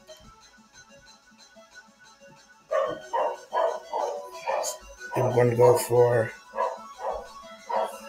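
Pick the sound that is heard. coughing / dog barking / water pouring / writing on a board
dog barking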